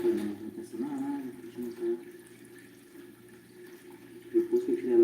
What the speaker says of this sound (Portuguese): E agora eu vou retirar toda essa água suja, toda essa sujeira.